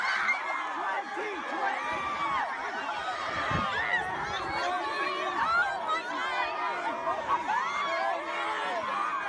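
A crowd of students cheers and whoops as Bernie Sanders walks through, with a dense, lively babble of excited voices and shouts running throughout at moderate distance.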